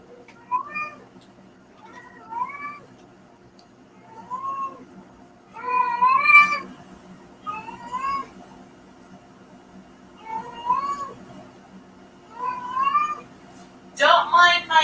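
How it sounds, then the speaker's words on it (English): A female cat in heat meows loudly and repeatedly, with drawn-out, wavering yowls coming every second or two, close and prominent against a quiet room. "Don't mind my cat. She's in heat."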